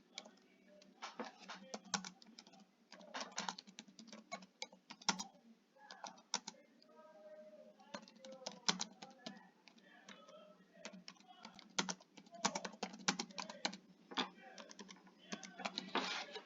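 Steady computer keyboard typing, close and soft, with bursts of rapid key clicks broken by short pauses, continuing throughout.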